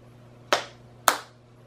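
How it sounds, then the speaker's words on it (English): Children clap their hands twice in a classroom, two sharp, close claps about half a second apart with a brief quiet between them. "Everybody clap."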